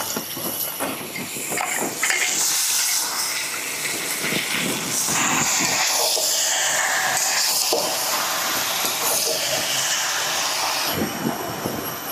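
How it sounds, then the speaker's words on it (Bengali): Onions fry in a pan with meat for lemon chicken, a continuous hissing sizzle that swells and ebbs, with occasional clinks and no talk. "পেঁয়াজগুলো অল্প ভাজা হচ্ছে।"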